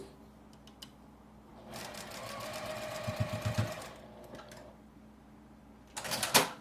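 A sewing machine runs a line of stitches about five millimetres from the edge of fabric for a tissue box cover, starting with scattered clicks, then a steady close whirring burst, a pause and a short final run.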